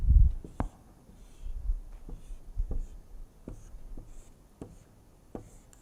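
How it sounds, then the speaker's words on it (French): Chalk or marker strokes on a board, a string of short taps and scratchy strokes spaced irregularly, close and fairly quiet with no talk over them. "J'écris très mal, puis je suis à l'envers"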